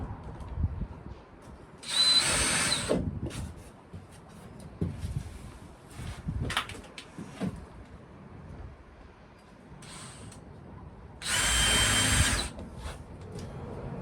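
Two short bursts of a power drill whining through a ceiling panel inside a narrowboat, separated by quiet handling knocks and rustling.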